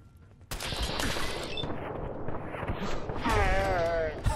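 Gunfire in the video game Fallout 4: a sudden burst of rapid shots opens the moment and continues as dense, loud firing, with a whistling swoop near the end.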